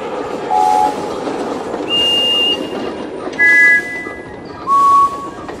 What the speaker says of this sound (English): That's the sound Edward makes.